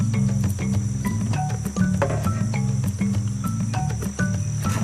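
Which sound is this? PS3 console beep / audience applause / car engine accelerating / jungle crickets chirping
jungle crickets chirping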